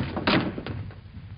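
A door being shut in a 1940s wartime film scene, one solid thunk close by followed by a softer knock as it settles.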